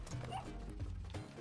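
Small dog bow-wowing and yipping in Spelunky 2, a few short barks close and fairly loud over game audio.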